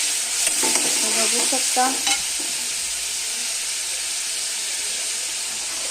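Ginger garlic paste roasting in oil in a home kitchen pan, a steady bright sizzle with a few scraping stirs in the first couple of seconds, then a continuous even fry; a brief voice speaks at the start.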